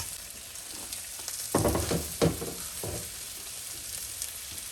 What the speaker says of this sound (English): If the meat doesn't sizzle, then your pan and the oil were not hot enough.